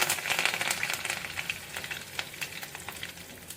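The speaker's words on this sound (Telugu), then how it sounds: "చిట్పాటు అన్నాయి కదా, కరివేపాకు కూడా వేసేసాం." Curry leaves and tempering spices sizzle in hot oil for a mango-carrot pickle, a close crackling hiss with scattered sharp pops that gradually eases off, no voices.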